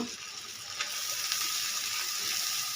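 Shrimp and plenty of onion frying in mustard oil in a pan: a steady, bright sizzling hiss that holds evenly close by, with a couple of faint clinks.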